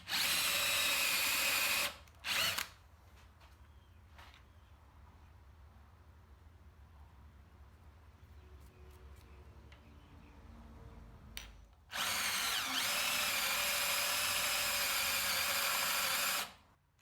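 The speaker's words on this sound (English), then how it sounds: "I drilled a shallow recess with a 25mm Forstner bit for the head of the screws" Power drill fitted with a 25mm Forstner bit boring a shallow recess into a wooden dining table leg: two loud, steady bursts of drilling, a short one at the start and a longer one near the end, separated by quiet workshop background with no talk.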